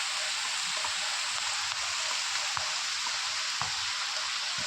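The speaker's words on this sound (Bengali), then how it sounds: "এই যে গাছের পাতা থেকে টপটপ করে জল পড়ছে" Monsoon rain falls with water dripping from tree leaves, a soft, steady patter and hiss broken by a few scattered, sharper drops. No one speaks.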